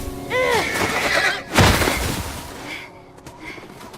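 In the video game The Last of Us, a horse whinnies loudly at the start, followed by a sharp bang and fading rumble, then a few softer thuds.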